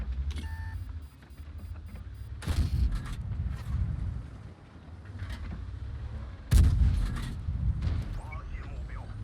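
Artillery shells slam into a tank in World of Tanks on the Malinovka map, two heavy booming impacts spaced a few seconds apart over a low rumbling battle bed, with someone talking throughout.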